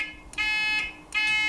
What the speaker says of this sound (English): ignition on, buzzer on, then the buzzer flashes all the time and the relay flashes all the time